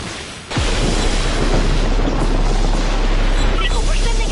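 A fuel tank blows up in the Just Cause video game: a sudden loud boom, then a sustained roaring blast of fire and debris that fills the rest of the moment.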